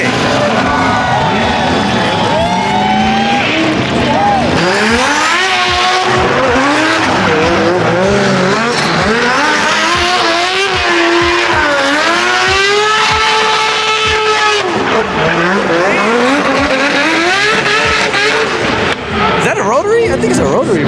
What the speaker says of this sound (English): I think it's a rotary, bro. It sounds crazy.